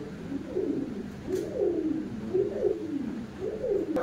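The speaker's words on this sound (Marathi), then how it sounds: "ठिपकेवाली कवडी" Spotted dove cooing in repeated soft, low phrases at moderate distance, each coo rising and falling in a steady rhythm with no talking.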